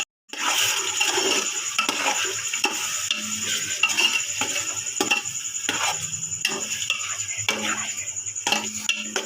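Peas and potatoes frying in ghee with onion in a pot for aloo matar pulao, a steady close sizzle under rhythmic spoon scrapes and metallic clinks against the pot.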